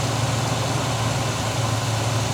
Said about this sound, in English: idle screw wasn't even in it